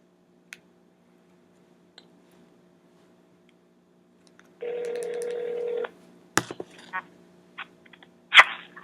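A phone call is placed: a few faint clicks, then a steady electronic tone lasting just over a second, followed by scattered clicks and a brief louder blip near the end, all fairly quiet.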